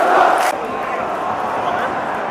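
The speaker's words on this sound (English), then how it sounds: "Crowd cheering." A stadium crowd at the Scottish Cup final between Rangers and Heart of Midlothian keeps up a steady roar, with a brief louder burst at the start, while a nearby voice talks over it.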